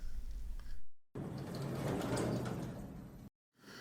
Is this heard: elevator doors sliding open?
yes